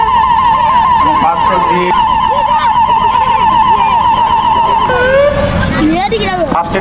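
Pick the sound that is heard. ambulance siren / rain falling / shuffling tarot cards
ambulance siren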